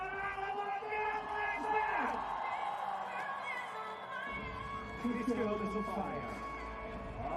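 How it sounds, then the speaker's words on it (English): A hometown crowd at a nighttime FIS Freeski World Cup big air contest in Kreischberg, Austria, cheers and whoops for a run, with distant mass applause and yells rising and falling under continuous commentator talk. "Lara Wolf into the corral in the applause of the hometown crowd"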